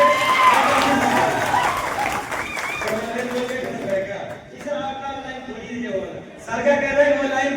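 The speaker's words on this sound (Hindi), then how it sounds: "इश्तियाक सर के लिए जोरदार तालियों से स्वागत करें" Applause at a school farewell ceremony welcoming a teacher, a brief wash of clapping from the gathered crowd at the start that quickly gives way to someone speaking over the hall.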